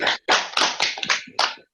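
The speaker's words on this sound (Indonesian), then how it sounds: "Tepuk tangan dulu untuk JP sudah baca." A classroom of students applauding on cue from the teacher: a short burst of several quick, close claps in an uneven rhythm, ending abruptly after under two seconds.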